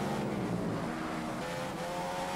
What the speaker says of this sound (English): the tyres were sliding across the floor too much there